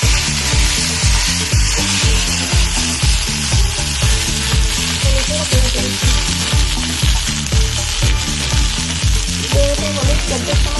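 Ginger paste with ground coriander and cumin fries loudly in a pan for a vegetarian cabbage dish, a constant sizzle broken by regular scraping strokes of a spoon stirring the masala.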